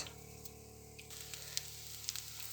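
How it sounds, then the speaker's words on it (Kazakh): Bread frying in a thinly oiled pan, a soft steady sizzle with faint crackles and a few sharper pops near the end, close and quiet. "Енді нанды аздап қуырып аласыздар"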